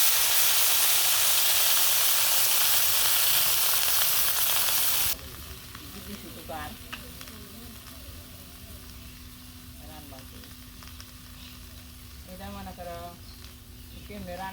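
Vegetables seasoned with turmeric, chili and salt frying in a pan in a village kitchen, with a loud steady sizzle that suddenly drops to a softer hiss, then stirring and scraping as people talk.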